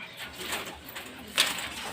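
Pigeons kept for sale coo softly, a faint, low murmur with one brief sharper chirp partway through.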